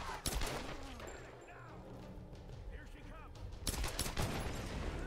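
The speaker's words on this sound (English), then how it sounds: "What's with the rapid fire?" Rapid automatic gunfire crackles in a Tomb Raider video game, bursts coming at the start and again in the last seconds. A voice talks over the shots in between.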